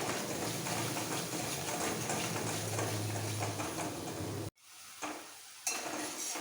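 Potato and flat beans sautéing with turmeric in a pan, a steady close sizzle with scraping stirs, breaking off abruptly near the end before a few quieter stirring scrapes and clatters return.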